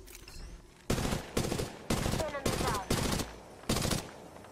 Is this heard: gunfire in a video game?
yes